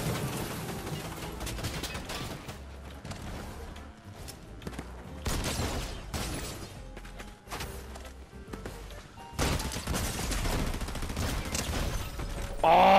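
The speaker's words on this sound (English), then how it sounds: "He killed me with the enhanced triumphant auto shotgun" Rapid bursts of automatic shotgun fire from an enhanced triumphant auto shotgun in a battle-royale video game, repeated loud blasts in clusters amid game sounds, with occasional voice in the mix.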